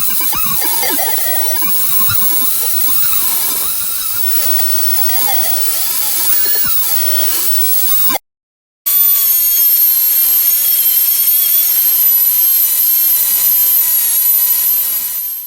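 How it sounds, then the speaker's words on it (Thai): A power tool sands rust off a homemade metal bottle opener, giving a loud, continuous high-pitched whine with grinding texture, a brief cut-out midway, then a steadier tonal whir resuming. "จะต้องขัดสนิมเหล่านี้ออกให้หมดกัน"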